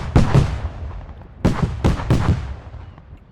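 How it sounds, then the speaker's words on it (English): Heavy cannon fire from a Blackfish AC-130 gunship in the Arma 3 video game: loud, deep booming impacts, a single hit followed by a quick cluster of three, each rolling away into a lingering echo. "Now you're hearing some sort of cannon fire hitting these guys."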